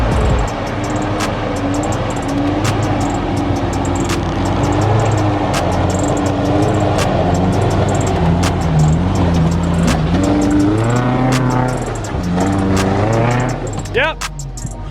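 Engine of a V8 Land Rover Discovery 1 or Suzuki Vitara 4WD revving and straining as it climbs a steep petrol-station hill, a loud continuous drone rising and falling in pitch throughout, with voices talking over it.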